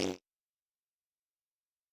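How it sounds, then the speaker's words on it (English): A single short, loud fart close by, lasting only a moment and followed by total silence, with no voices. "I am sorry that I farted."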